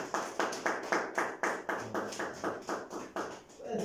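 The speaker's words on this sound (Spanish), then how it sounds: "Dale un fuerte aplauso al Señor." Rhythmic unison clapping from a church congregation at a marriage service, steady regular claps about two per second, fairly distant and soft, with no talking over them.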